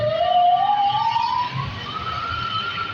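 A fire truck's wailing siren rises slowly in pitch and holds loud and steady, with traffic rumbling faintly underneath.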